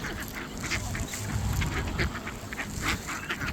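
Ducks quack repeatedly close by in a mixed yard flock with chickens and pigeons on Bermuda, a lively overlapping chatter of honks and quacks over a busy outdoor background.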